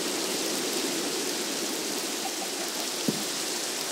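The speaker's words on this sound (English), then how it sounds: "Because it is raining." Rain falls in the Minecraft video game as a steady, even hiss that fills the whole moment, with one faint knock near the end and no speech.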